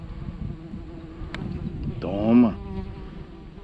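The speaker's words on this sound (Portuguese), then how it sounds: "Ô, abelha chata." A bee buzzing near a fishing spot, a faint steady hum under outdoor ambience that swells into a close, louder whining pass, with a short spoken word in the clip.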